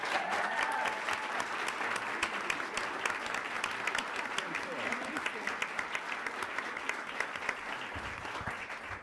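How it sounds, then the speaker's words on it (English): Audience applause at a school board meeting for a volunteer award, a dense steady clapping that continues throughout with faint voices mixed in. "So we may want to hold our applause till the end"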